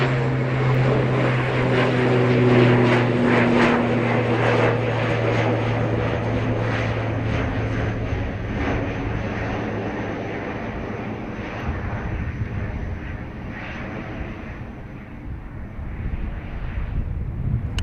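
A propeller aircraft departing Dublin Airport, its engine droning loud and steady with a tonal hum that fades gradually as it climbs away, a continuous roar filling the whole stretch.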